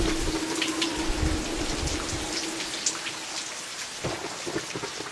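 Heavy rain pours steadily on surfaces while thunder rumbles low in the distance, with a sharper crack near the end.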